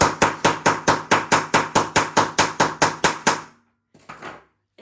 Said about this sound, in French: c'est en tapant très fort hein, avec le marteau, que vous allez vous boucher les oreilles maintenant, que je vais faire le trou